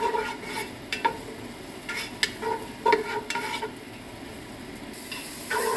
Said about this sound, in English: I like to almost caramelize it, just at least till they look translucent, so that way the oil grabs all the flavor